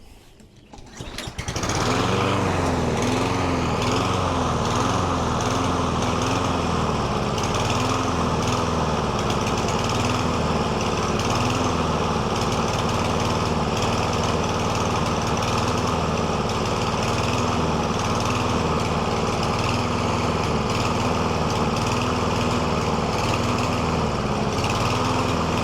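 Surging lawn mower engine, close and loud, starting up and then running steadily for the full stretch with a faint wavering in its drone, no talking.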